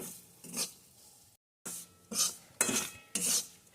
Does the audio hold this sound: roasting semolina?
yes